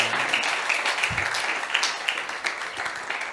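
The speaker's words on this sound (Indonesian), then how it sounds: "Sekali lagi tepuk tangan buat Tuhan." Congregation clapping during a church teaching service, a steady wash of many hands with brief louder bursts, moderately loud and continuous throughout.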